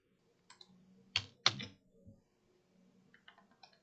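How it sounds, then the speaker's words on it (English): A few scattered keystrokes on a computer keyboard as a prompt is typed, with soft close clicks in small bursts and quiet pauses between them. "I'm going to type in my prompt"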